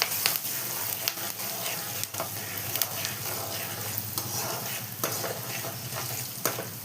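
Curry leaves crackle and sizzle in hot oil for lemon rice, with a steady frying hiss broken by sharp pops and the scrape of a spoon stirring the pan.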